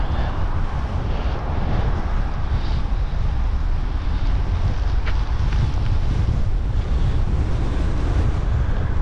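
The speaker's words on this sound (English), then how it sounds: "how am I in a headwind this entire way?" Steady, loud wind roar buffeting the microphone while cycling a paved multi-use trail, broadband and continuous with no talking.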